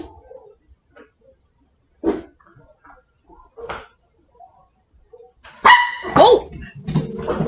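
Several neighborhood dogs bark from outdoors, a few faint scattered yaps early, then louder overlapping barking bursts near the end, somewhat distant.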